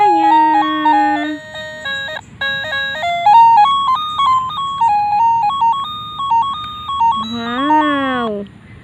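A bright electronic toy melody plays a bouncy, beeping jingle, loud and close, ending with a rising warble.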